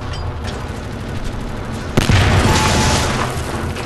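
Grenade blast in Wolfenstein: The New Order, a single loud boom about halfway through that rolls out into a sustained rumble, with faint scattered gunfire before it.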